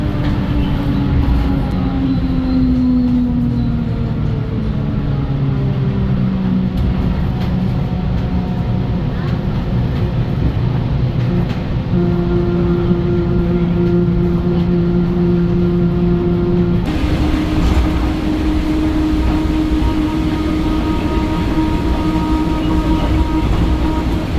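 A Mumbai monorail train rumbles steadily along with a constant mechanical hum and whine, heard from inside the car, with faint voices beneath.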